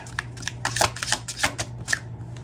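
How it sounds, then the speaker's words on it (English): A deck of tarot cards being shuffled up close, a quick run of papery riffles and flicks with soft taps, over a low steady background hum. "Let me grab one more card."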